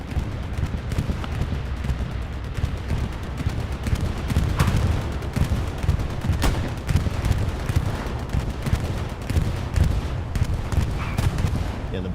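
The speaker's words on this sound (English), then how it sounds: "That was, yes, I believe that was a Syndicate bombing run" A bombing run in the WWII shooter Hell Let Loose rumbles on for the whole stretch, with dense overlapping explosions and crackling gunfire forming a loud, continuous barrage that has no clear gaps.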